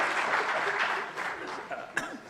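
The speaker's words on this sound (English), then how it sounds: "we clap for him again" Clapping from an audience at a university commemoration event, steady through most of the moment with a cough or sharp sound near the end and faint voices mixed in.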